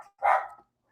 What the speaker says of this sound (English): My dog's now barking.